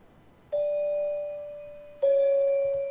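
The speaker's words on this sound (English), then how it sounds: "it's just got almost like a church bell kind of thing going on" Bell-like tones in a creepy, funeral-style music composition, resembling a church bell: two sustained, ringing strikes about a second and a half apart, each decaying slowly, clear and up close with no talk.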